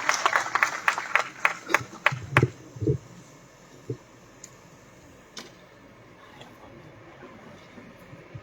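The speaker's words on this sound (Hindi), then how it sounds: "एक बार जोरदार तालियां" At a documentary launch ceremony after the lamp lighting, an audience gives scattered, fairly close claps that fade quickly into a quiet hall.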